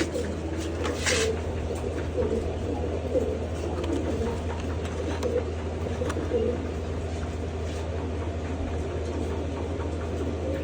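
Pigeons cooing after being given grain, soft repeated low coos layered over a constant low hum, with someone speaking intermittently in the background.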